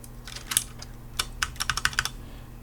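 Several light plastic clicks and taps of a caps lock keycap being flipped and pressed onto a gaming keyboard switch, close and crisp, in a short irregular cluster with no talk.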